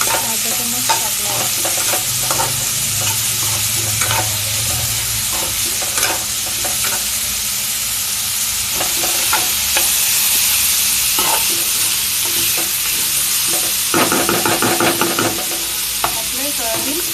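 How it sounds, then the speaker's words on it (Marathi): Soybean chunks fry in a pan for brown rice vegetable pulao, a steady loud sizzle broken by repeated scrapes and clacks of a spoon stirring against the pan, with no voices. "आपले सोयाबीन फ्राय झाले आहेत"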